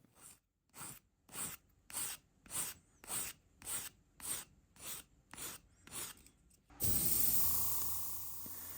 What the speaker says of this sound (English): seam lines are cleaned up using sandpaper or a file